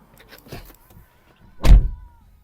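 The front power window of a Skoda Octavia Tour runs with a faint, thin electric whir, then ends in a short, loud thunk as the glass stops.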